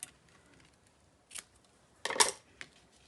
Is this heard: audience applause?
no